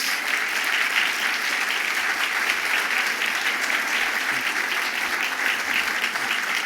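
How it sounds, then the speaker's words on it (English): A crowd at the Gotham Greats Celebration gives honorees a full, sustained round of applause, dense and even clapping filling the room for several seconds without a break. "please stand so we can give you a round of applause"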